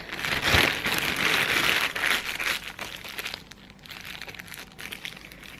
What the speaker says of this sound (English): this brush can just go in a plastic bag like this, and then you seal it up